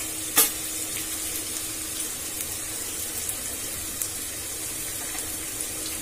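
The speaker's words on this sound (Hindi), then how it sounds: "अब इसे हमें गोल्डन ब्राउन होने तक भून लेना है" Onions fry in a pan over a medium flame, giving a steady, even sizzle at moderate level. A single sharp clink comes near the start.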